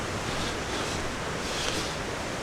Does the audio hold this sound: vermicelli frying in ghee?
no